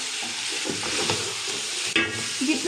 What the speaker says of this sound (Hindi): अब इसमें हम सब्ज़ मिर्चें जो हमारे पास थी वो इसमें ऐड करके इनको अच्छे तरीके से मिक्स कर लेते हैं और मज़ीद 2 मिनट के लिए हम इनको अच्छे तरीके से भूनेंगे